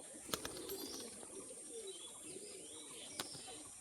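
Pigeons coo softly at a Bengali pigeon sale, including a pair of black-eyed white birds: faint, low murmuring coos with occasional sharp clicks and chirps over quiet background hiss.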